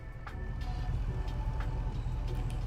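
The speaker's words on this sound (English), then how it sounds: "Listen to this engine." Steady low drone of the Hercules scout truck engine in SnowRunner, running continuously and fairly close with faint higher whine on top.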